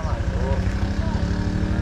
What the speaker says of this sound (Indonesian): itu pakai drone dari media Pak